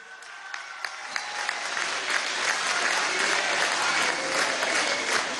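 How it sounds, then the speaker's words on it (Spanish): An audience at a Venezuelan youth housing congress closing session breaks into applause that starts with scattered claps and quickly swells into sustained, dense clapping from a large crowd in a hall. "Aplauso a la juventud."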